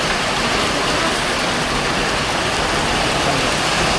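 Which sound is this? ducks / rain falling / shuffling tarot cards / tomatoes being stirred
rain falling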